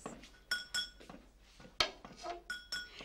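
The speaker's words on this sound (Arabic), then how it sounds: "هنا عم تدق محلاب" Mahlab spice is pounded in a mortar, giving sharp metallic clinks and ringing strikes in an uneven rhythm, fairly faint and heard alone.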